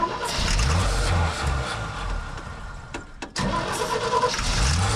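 An old car engine that sat abandoned for twelve years cranks, catches and revs loudly up close in a shop, sputters and briefly cuts out near the end, then roars back to life.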